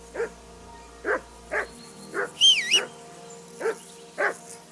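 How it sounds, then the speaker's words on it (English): Repeated nearby barks from a dog in Kingdom Come: Deliverance 2, coming in a steady rhythm with a brief high chirping sound partway through and no one talking. "I assume you can hear that damn dog of yours barking."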